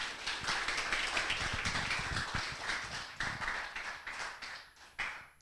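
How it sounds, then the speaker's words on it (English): Steady clapping from an audience at an academic informatics workshop, a dense patter of many hands heard at a distance, fading toward the end. "give great applause to Ibu Rati"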